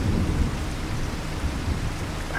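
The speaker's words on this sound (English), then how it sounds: "So the rain has started." Steady rain hisses with low thunder rumbling underneath in the video game Farming Simulator 25, on a Louisiana farm in early July, with a dense, even downpour and no voices.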